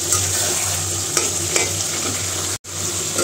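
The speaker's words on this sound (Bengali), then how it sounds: "আর এই যে মাংস কষাইতে দিছি" Small pieces of goat meat sizzle steadily in a pan while being braised and fried, a constant close hiss broken by a few light stirring scrapes and one brief cutout near the end.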